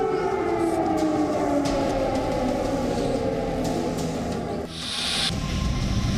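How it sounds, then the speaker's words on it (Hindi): Air raid sirens sound continuously over a city under threat, a steady wailing tone with slowly sliding pitch and hissy background noise, with no voices. "सायरन बजने की आवाज लगातार आती रही"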